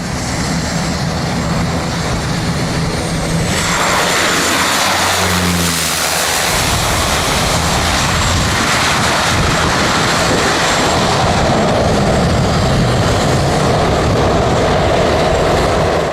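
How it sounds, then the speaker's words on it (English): A DHL Cessna 208 single-engine turboprop flies dangerously low on approach to St. Barthélemy, its loud, steady engine and wind roar swelling as it passes close overhead with no voices. "This DHL Cessna 208 flying dangerously low while approaching St."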